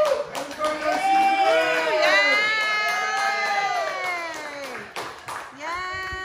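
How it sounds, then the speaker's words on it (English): Guests at a child's ninth birthday party cheer and whoop together, high excited voices rising and falling in a loud sustained burst close by with a brief dip near the end. "And the crowd goes wild."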